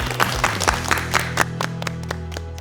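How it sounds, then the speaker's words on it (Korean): A studio audience at a televised student quiz show applauds, a dense patter of clapping over sustained background music tones, fairly close and steady for a couple of seconds. "두 분께 다시 한번 두 분의 꿈을 위한 박수까지 함께 드리겠습니다"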